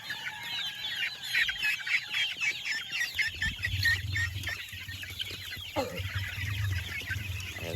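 Hens cluck steadily in a poultry pen holding a first batch of laying hens, a dense overlapping chorus of nearby birds with constant chatter, a low rumble of background noise coming in partway through.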